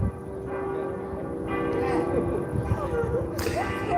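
Church bells ring at night across the city rooftops of Central Europe, a steady layered peal carrying from a distance over a constant urban hum, with faint voices nearby.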